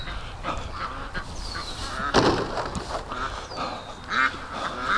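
Ducks quack in scattered bursts nearby, a few honking calls rising over a low outdoor background.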